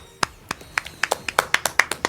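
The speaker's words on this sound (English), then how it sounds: "I offer a round of applause." One person claps alone, sharp, close claps that start sparse and quicken into a steady, even rhythm of about a dozen beats.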